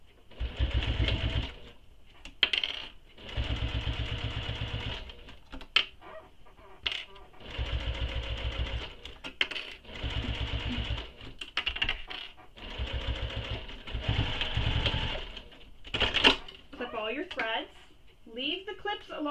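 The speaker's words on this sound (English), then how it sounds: "Now we're going to top stitch the trim using the seam allowance given in the pattern" A sewing machine top stitches trim on a mini crossbody bag in repeated loud bursts, starting and stopping with short pauses between runs, while a person talks in the gaps.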